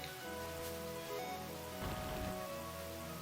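Rain falls in Pokémon Black as a steady, dense patter that never lets up, blended with the game's music, moderately loud and with no pauses.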